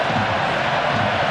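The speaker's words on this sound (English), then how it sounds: "The cheering you can hear, a real festive atmosphere for this game." Large stadium crowd at Camp Nou during a Barcelona v Arsenal friendly, cheering as a Mexican wave goes round, heard as a dense, distant, unbroken roar.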